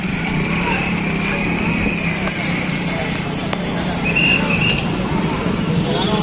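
Busy road traffic near the crowd of a Rath Yatra chariot festival in Patnagarh: a steady, dense roar of vehicles with engines passing close, while people talk over it throughout.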